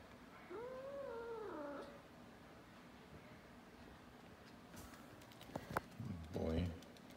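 A domestic cat gives a drawn-out, wavering meow near the start, followed later by scuffling and a short thump; a person talks around it in a room.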